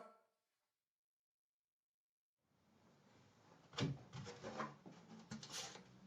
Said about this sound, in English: we keep sanding with this guy